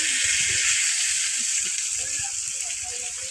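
A fish head drops into a pan of frying spices (turmeric, chili powder, garam masala) and sizzles with a steady, close, bright hiss throughout, while a person talks over it.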